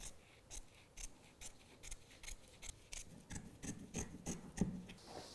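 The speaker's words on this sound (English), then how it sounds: "You just need to cut as close as possible to the edge of the PVC. So I'm just going to cut along there." Scissors cutting along the edge of PVC lampshade material, a run of close, quiet snips and rasping cuts in an irregular rhythm with no talk.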